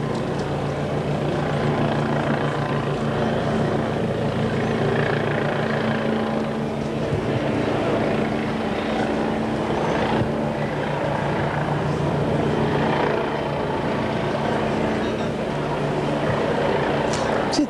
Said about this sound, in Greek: Είναι το ελικόπτερο του Αντένα,